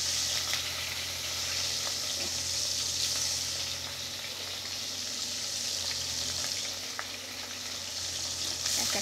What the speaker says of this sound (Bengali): এক এক করে ট্যাংরা মাছগুলো শিমে শিমে ভেজে নেবো